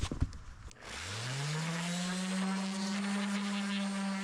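A power sander spins up after a few knocks and then runs at a steady, loud droning whine on an old 19th-century wooden express wagon, close by and alone.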